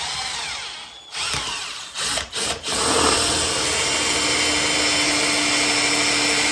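Power drill boring holes with a large drill bit while laying model railway track, a loud continuous whine broken by two or three brief pauses and restarts, then running steadily to the end.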